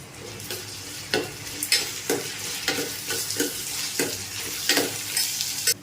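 Onions sautéing with a pinch of salt in a pan, an even sizzle broken by repeated clacks and scrapes of stirring at irregular intervals, close and moderately loud with no talking.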